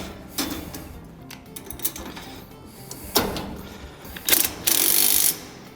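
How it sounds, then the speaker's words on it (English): A ratchet tightening 17mm bolts on a steel lift frame, close clicking ratchet bursts and metallic knocks in short irregular runs, ending in a longer continuous whirring click. "we need to tighten up all of our 17mm bolts"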